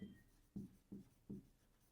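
Pen strokes scratch on paper while math is worked by hand, in four short, soft bursts with brief pauses between them, close and quiet.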